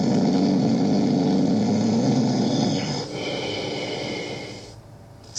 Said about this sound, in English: Let's turn on the lights and see where the snoring is coming from.